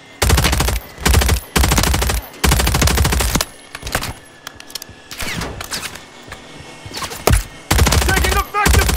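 Call of Duty: Modern Warfare 3 gunfire, repeated loud sustained bursts of automatic fire with short pauses between them, close and dominant, with quieter game sounds in the lulls.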